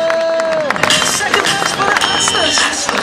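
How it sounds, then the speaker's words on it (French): Spectators clap and cheer for two under-13 youth football teams at a club challenge, brisk applause mixed with crowd chatter and shouts, with a whistle-like tone at the start and voices in the background. "Vous pouvez encore applaudir les U13 de Notre-Dame-d'Oé et les U13 de Verette"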